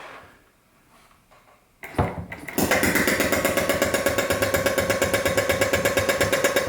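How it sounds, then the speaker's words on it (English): A repaired Suncore car air compressor starts up after a brief clunk and runs steadily with a loud, fast, even rhythmic chugging and buzz, close by and with no talk. "Let's plug the power supply back in and listen to her run."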